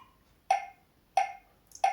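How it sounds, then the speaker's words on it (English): Three crisp metronome clicks at an even 90 bpm, each a sharp bright tick with a short ring, sounding close and alone against quiet. "I'm gonna turn on the metronome on 90, so it's a steady beat."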